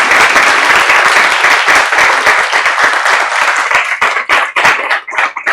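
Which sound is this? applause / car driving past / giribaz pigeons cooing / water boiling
applause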